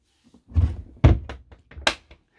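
Door of a Malibu i441LE integrated motorhome swung shut, a couple of solid close thunks and a latch click in quick succession, near and loud with no talk.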